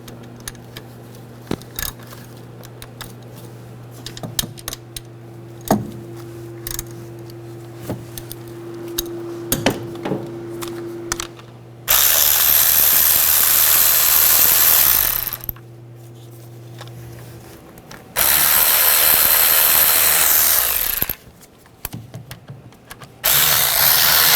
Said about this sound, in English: I'm just going to use a 10mm socket. Loosen those up first.